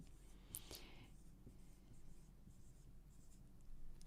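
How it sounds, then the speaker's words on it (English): A marker writes on a board in a quiet room, with a few faint squeaky strokes early on and then soft, sparse scratching. "You tell me what you think I should write on this board."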